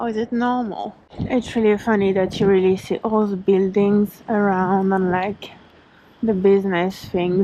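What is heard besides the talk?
No distinct noise like a dog, phone or traffic.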